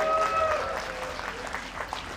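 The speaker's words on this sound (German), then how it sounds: "nochmal einen ganz fetten Applaus für Markus Schlosser und Marcel Fries" Audience applause for the winners at an IDM motorcycle race at the Lausitzring, a short steady patter of clapping from a crowd, with a brief tonal trace at the start.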